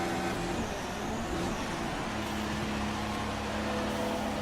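F1 car in the F1 2016 racing game driving into the pits, a continuous dense engine drone with a steady low rumble that holds level throughout, close and loud with no talk.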